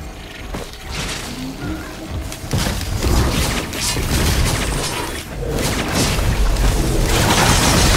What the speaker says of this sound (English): But there's fireworks.